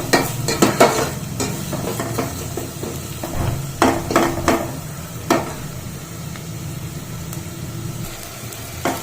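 Sliced onions frying in oil in a pan until golden brown for paneer dum biryani, a steady sizzle punctuated by repeated spatula scrapes and knocks against the pan, close up with no voices.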